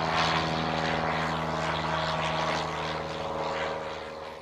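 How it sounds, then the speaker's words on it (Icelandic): Propeller aircraft at the annual Reykjavik airport air show droning overhead, a steady loud engine hum with harmonic tones that fades slightly toward the end, no talk. "Fjöldi flugvéla og flygilda sáust yfir höfuðborgarsvæðinu í dag."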